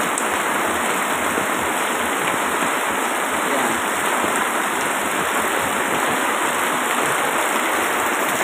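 Rainwater pours and runs near a street in Tondo, Manila, giving a steady, dense hiss of falling and flowing water that stays constant and close throughout, with no pauses.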